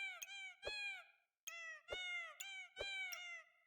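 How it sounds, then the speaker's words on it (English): Cartoonish cat meows from the video game Backpack Battles, a series of clear, repeated tonal mews with short clicks between them, close and alone without talk. "Or buy a cat, listen to that meow."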